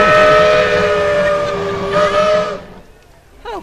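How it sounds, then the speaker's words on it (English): A passing train sounds a loud, sustained whistle near a cornfield. The sound holds steady for a couple of seconds, then stops abruptly and leaves a quieter rumble. "And there goes the train."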